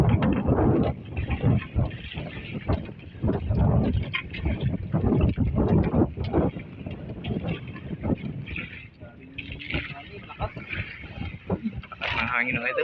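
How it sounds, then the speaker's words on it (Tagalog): Strong wind buffets the microphone with low, gusty rumbling while people talk loosely underneath. "Lakas ng hangin"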